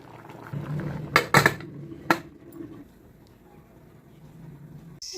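A metal lid set onto a pot of tamarind-leaf dal, several sharp clinks and clanks close by in quick succession, then a quieter stretch with faint background noise.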